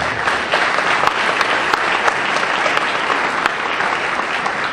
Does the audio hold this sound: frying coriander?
no